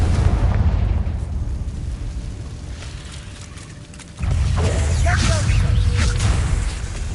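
Confringo fire spell blast from the Hogwarts Legacy wizarding video game: a sudden loud explosive burst midway, followed by sustained rumbling, crackling game effects over continuous background noise.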